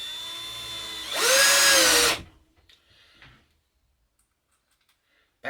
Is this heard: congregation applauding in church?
no